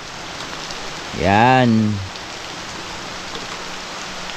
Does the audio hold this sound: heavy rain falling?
yes